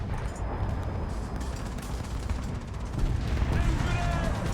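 Bkan 1C self-propelled artillery firing in War Thunder, heavy booming blasts under continuous rumbling battle noise, a loud low-end barrage that swells toward the end.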